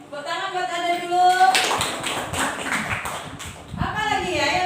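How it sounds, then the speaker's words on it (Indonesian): Schoolchildren in an elementary classroom clap for a classmate, a burst of quick, uneven hand claps lasting a couple of seconds, with a teacher talking just before and after. "Tepuk tangan buat Ada dulu."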